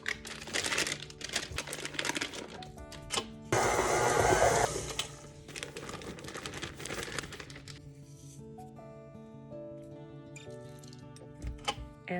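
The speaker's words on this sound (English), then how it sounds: "when you're adding the powdered sugar, like when you're adding flour, pulse the mixer" An electric mixer pulsed in short bursts while powdered sugar is added to cream cheese frosting, giving choppy whirring spurts and one longer loud run, then settling into a quieter, steadier hum with light rattling.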